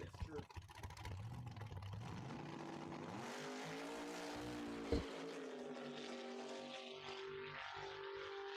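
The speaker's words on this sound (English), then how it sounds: "Vega's making his way down," A 1971-73 Chevrolet Vega drag car making a pass down the drag strip, its engine a loud continuous roar rising in pitch, with a sharp bang midway. An announcer talks over it throughout.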